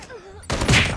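A Holger 26 light machine gun in Call of Duty Mobile opens fire in a sudden, loud burst that cuts in abruptly after a brief moment of quieter background sound.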